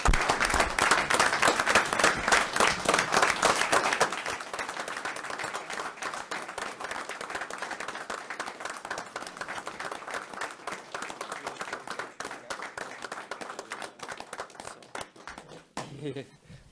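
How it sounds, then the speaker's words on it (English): A round of applause at a Common Council meeting, loud dense clapping from the room that thins after a few seconds into scattered claps, fading out with a voice at the very end. "Just a round of applause for him coming back."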